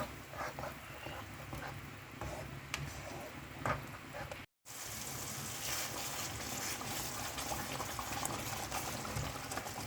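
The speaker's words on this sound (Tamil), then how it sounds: "மிளகாய் நல்லா வதக்கிக்கோங்க. எண்ணெய்லாம் பிரிஞ்சு வரணும்." Chillies sauté in oil for a nasi lemak sambal, giving a steady, close bubbling sizzle that cuts out briefly midway and then resumes, with no talk.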